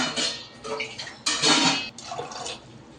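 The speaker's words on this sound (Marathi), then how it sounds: "याच्यामध्ये आपण पाणी टाकून घेऊ।" Water is poured into a pressure cooker holding black-eyed peas, giving a splashing gush in a few close bursts with light metallic knocks of the cooker.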